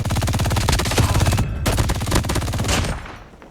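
Sustained machine gun fire in Call of Duty Mobile Battle Royale: a loud, rapid, even stream of shots with a brief gap, then more bursts that thin out and fade near the end.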